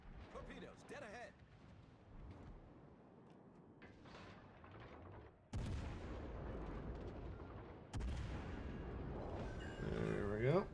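Torpedo blasts sinking an enemy destroyer in a naval combat game, heavy booming hits that arrive abruptly in a couple of loud surges amid ongoing rumble, with someone talking over the action.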